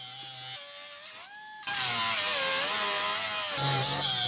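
An angle grinder works steel on a dump trailer, cleaning up old welds before rewelding: a loud, sustained whine that starts after a short, quieter spin-up and drifts in pitch as the disc loads and unloads against the metal.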